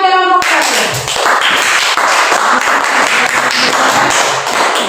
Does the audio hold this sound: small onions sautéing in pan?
no